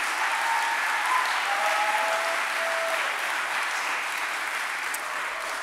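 Sustained audience clapping fills a hall at a Green New Deal gathering in Vancouver, a dense, even round of applause for Rueben George that tapers only slightly toward the end.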